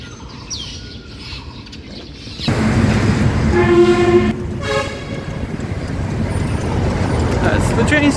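A train at a railway station sounds a loud horn in a few sustained blasts over steady rumbling platform noise, with people talking nearby.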